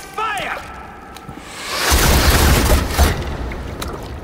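First volley of projectiles fired in the video game Assassin's Creed Valhalla: a brief whoosh, then a loud, sustained booming burst of launches and impacts that rolls on with a few sharper hits.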